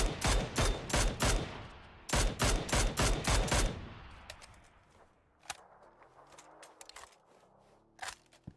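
Suppressed gunshots in the battle royale game PUBG ring out in two rapid volleys of sharp cracks, followed by sparser, fainter scattered shots and echoing tails.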